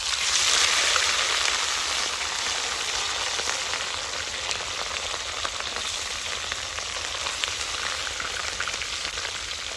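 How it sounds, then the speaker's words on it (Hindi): Minced meat (keema) frying in hot ghee in a dhaba-style aloo keema dish, a continuous loud hiss and crackle of sizzling that stays steady throughout with no talk. "कीमे को घी में भून लिया गया है"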